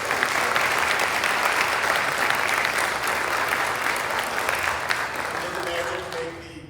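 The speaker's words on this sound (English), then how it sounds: "let's give a round of applause for Carrie Clubman" An audience at a Wall of Honor induction ceremony breaks into sustained applause, loud dense clapping that holds steady for several seconds and then tapers off, with voices mixed in.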